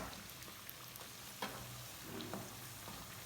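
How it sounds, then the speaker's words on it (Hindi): Samosas fry in hot oil with a steady, close crackling sizzle and occasional bursts of popping, quiet overall with no one talking. "तो बस मैं समोसियाँ फ्राई कर रही हूँ"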